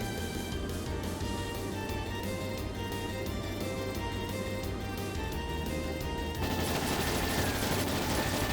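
Rapid volleys of gunfire from attack ships firing on a dragon in the video game Trails in the Sky SC, a continuous dense fusillade that grows louder in the final seconds.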